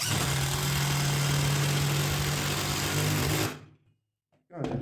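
Cordless drill driving a thick 8 cm screw, a loud steady motor whine for about three and a half seconds that cuts off abruptly, followed by brief quiet and a short noise at the end.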